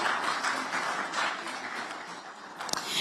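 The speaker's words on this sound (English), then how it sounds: "Please give her a round of applause as she comes up as well." Audience applause greets a vice presidential candidate of the New Force as she comes up at a public forum on elections and anti-corruption, a steady mid-level patter of clapping that holds for the whole stretch.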